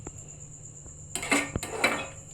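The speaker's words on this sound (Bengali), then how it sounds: "হ্যাঁ ঢাকনা দিয়ে দেবো ঠিক আছে" A metal lid set onto a cooking pot of potato and egg curry, with a cluster of close clanks and rattles after a quiet start, the loudest chink coming midway.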